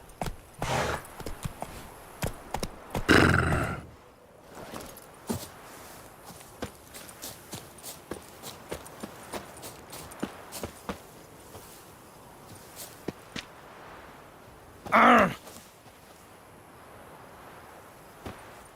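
Hooves of Roach, the horse in The Witcher 3, clip-clop in a steady rhythmic gallop across the ground, fairly close, with a couple of louder bursts of other game sounds.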